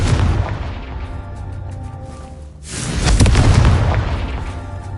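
A Confringo blasting spell in a video game, heard as loud booming explosions with a rumbling burst, a big blast mid-clip followed by sustained roaring debris.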